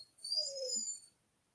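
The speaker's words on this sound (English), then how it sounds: "Is that your dog? That's my dog." A German Shepherd mix dog lets out a single soft, drawn-out whimper, a thin high whine lasting under a second, close by in an otherwise quiet room.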